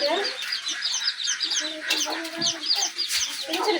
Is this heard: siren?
no